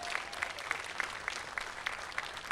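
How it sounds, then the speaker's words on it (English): A crowd claps steadily, a dense patter of hands that holds even throughout, heard from a distance and fairly quiet. "Give them a great big round of applause."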